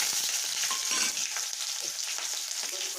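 Onions sizzle and fry steadily in hot oil with cumin for a homemade samosa filling, a loud continuous crackle with occasional stirring scrapes throughout.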